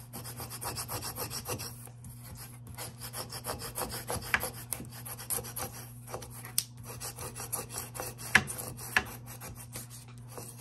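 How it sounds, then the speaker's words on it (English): A scraper tool rubbed back and forth over a Cricut vinyl project, producing rapid, rhythmic, close scratchy strokes with a steady electrical hum beneath, and no speech. "you're just gonna scrape it until you feel like you've scraped it enough"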